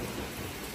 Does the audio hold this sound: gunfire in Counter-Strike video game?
no